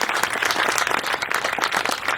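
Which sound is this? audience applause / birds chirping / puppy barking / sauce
audience applause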